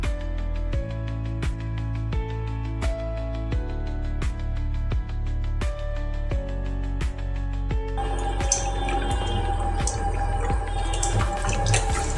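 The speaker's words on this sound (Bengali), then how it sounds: "এই সমস্ত পটলগুলো আমি ধুয়ে নেব" Pointed gourds (potol) are washed in water: light drips and small taps come first, then a fuller, broader wash of running and splashing water near the end, close by and with no talking.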